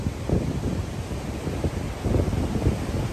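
Blustery wind at a beach in Da Nang buffets the microphone in continuous rough gusts, a loud rumbling roar with no voices.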